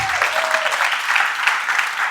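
A conference audience at a leadership summit breaks into loud, close applause, a steady wash of clapping with a faint tone fading out at the start.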